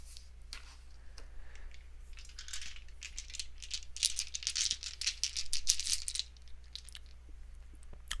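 Story cube dice are rolled onto a bouncy mouse pad and rattle and clatter up close for several seconds, fairly quiet and building to a busier burst before settling.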